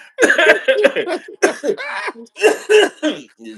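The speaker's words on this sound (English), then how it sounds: "About to cough up a lung, man, for real, man." A burst of harsh, repeated coughing, loud and close, in several fits with brief pauses between them.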